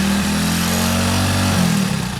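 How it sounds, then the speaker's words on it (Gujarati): A motorcycle engine runs steadily just after being started, a loud, close idling drone with slight wavering, heard alone with no talk. "અત્યારે બાઇક સ્ટાર્ટ કરી છે"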